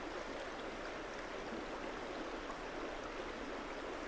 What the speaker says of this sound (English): As you hear the sound of the water